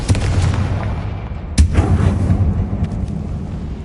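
Bombarda and Confringo explosive spells cast in the video game Hogwarts Legacy, heavy rumbling blasts with one sharp loud crack midway, followed by a few fainter pops as the roar decays.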